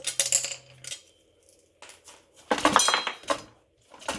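Metallic clinks and rattles of brand new stainless steel nuts being handled and fitted onto a Suzuki GSX1400 motorcycle brake disc, in short clustered bursts separated by quiet pauses.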